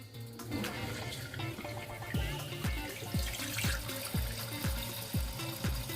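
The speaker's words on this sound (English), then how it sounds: "And now the moment of truth, turning back on the toilet." A toilet tank refills after the household water main is turned back on, with hissing inflow and a series of regular gurgling pulses as the water rises, fairly close and alone.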